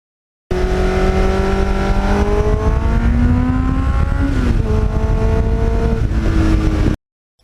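A 1989 Kawasaki GPX750R engine running through a Muzzy muffler, a loud close exhaust note climbing and dropping in pitch through several revs before cutting off abruptly.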